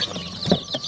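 Several young chicks cheeping in a brood, short bright peeps repeating close by, with soft clucking and rustling underneath and no talking.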